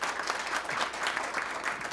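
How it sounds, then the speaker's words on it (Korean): Audience applause at a Seoul public forum on building a citizens' classical concert hall, a dense, steady wash of many hands clapping close by, sustained with no talk over it. "큰 박수로 맞이해 주시기 바랍니다."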